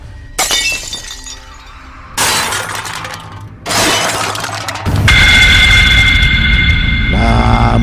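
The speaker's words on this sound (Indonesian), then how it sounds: "kembali ia dikejutkan dengan suara kaca jendela yang pecah" A glass window pane shatters several times, sharp crashes with scattering shards at irregular intervals, loud and close, ending in a sustained tinkling and ringing wash of broken glass.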